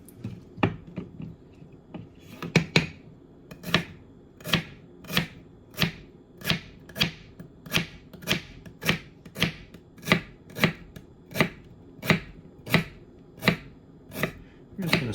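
Knife slicing two celery stalks on a cutting board in a steady, even rhythm of crisp taps, about one or two per second, heard up close with no talking.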